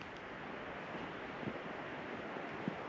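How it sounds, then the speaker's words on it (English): A creek running near a campsite in a chilly state forest, heard as a faint, steady rushing hiss with a couple of small knocks partway through. "I can hear the creek."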